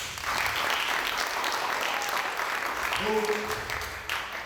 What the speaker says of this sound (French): En tout cas, applaudissez pour ça.